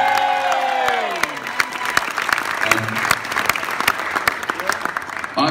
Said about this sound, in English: Give the ushers a cheer, give them another cheer.